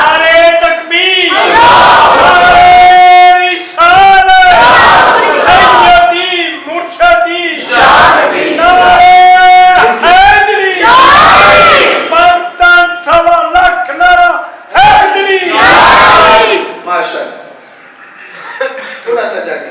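A large religious gathering at a Shab-e-Barat sermon in Gujranwala roars back loud, repeated chanted slogans, the massed voices rising in several surging bursts before fading to a quieter murmur at the end.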